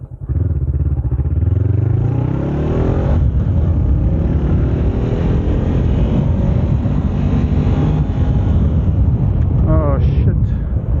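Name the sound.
Honda CBR 500R motorcycle riding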